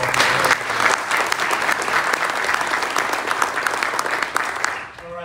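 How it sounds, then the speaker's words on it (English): A crowd at a Tennessee Governor's conservation tour event for the Bolivar Brownfield Project claps in a dense, steady burst of applause, loud and close, lasting several seconds before tapering slightly at the end. "So if y'all give them a round of applause."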